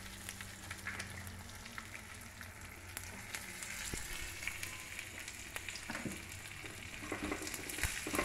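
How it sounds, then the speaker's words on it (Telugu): Onion pieces sizzle steadily in hot tempering oil for mint chutney, a soft continuous frying hiss with occasional stirring clicks, close and fairly quiet, no voices. "ఇప్పుడు తాలింపులో కొద్దిగా ఉల్లిపాయ ముక్కలు కొద్దిగా వేగం చేయాలండి."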